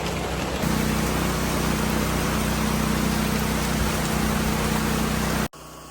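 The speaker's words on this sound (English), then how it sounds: "And just like that, it started raining again." Steady rain falls outdoors on rural land, a loud, even hiss that fills the whole stretch and then cuts off abruptly at the end, with no talking.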